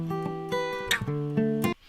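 Acoustic guitar strummed and picked in a short phrase, with its low end rolled off by EQ so the tone sounds thin and bright, played clearly with no voice.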